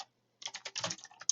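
Keys clack on a computer keyboard in a quick burst of about a dozen close, crisp taps after a short pause, recorded near the microphone with no talking.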